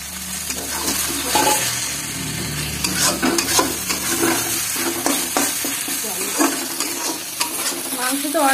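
Meat stirred and frying in a hot pan, with a steady sizzle and repeated scraping clatter of a spoon against the metal, close and loud throughout.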